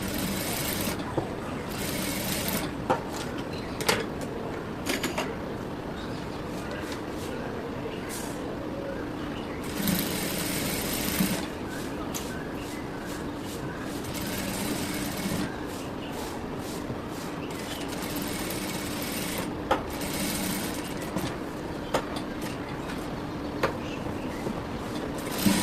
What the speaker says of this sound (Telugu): ఆ మార్కింగ్ మీద నీట్ గా స్టిచ్ అనేది వేసుకోవాలి